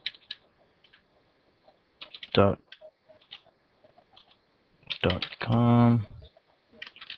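Light clicking of typing on a computer keyboard while entering text in an image-editing tutorial, quick close taps in short bursts between stretches of a man's speech.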